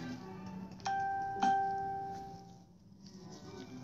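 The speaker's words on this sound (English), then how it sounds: "That's my phone letting me know that Art Forest is live." A bright electronic phone notification chime rings twice in quick succession, clear tones ringing out over a low background hum before fading.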